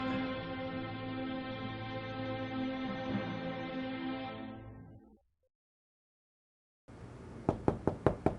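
Knocking on a door: a quick series of sharp close raps heard after a sustained droning tone stops and a brief silence follows.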